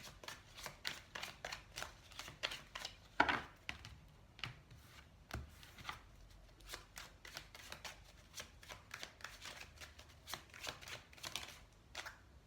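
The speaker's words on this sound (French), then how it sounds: "Allez, on en tire une de celle-ci." Tarot cards shuffled by hand in quick, soft riffling bursts and light slaps, close and quiet, repeating irregularly throughout with no talking.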